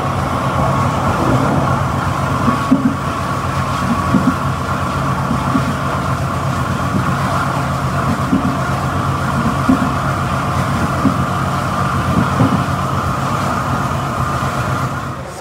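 An Indonesian Sri Tanjung passenger train with K5 bogies rumbles along the rails with a steady loud roar and rhythmic clacking of wheels over rail joints.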